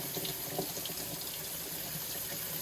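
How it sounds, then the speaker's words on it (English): Tap water runs steadily into a sink as cooked rice is rinsed, a constant close splashing stream without pauses. "This is like the beauty of cooking it like pasta, is you can just rinse it afterwards."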